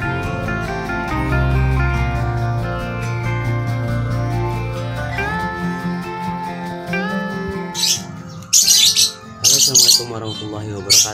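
A balibu lovebird sings in sustained, warbling tonal phrases that give way to sharp, high chirping bursts near the end, loud and close.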